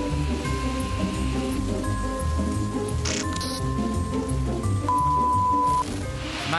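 Heavy downpour during an outdoor presidential press conference in Yucatán, a steady broadband roar that fills the whole stretch, with faint voices and scattered tones underneath.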